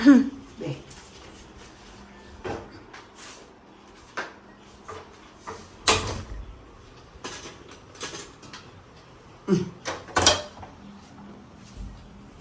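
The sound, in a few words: rice pressure cooker being set on the stove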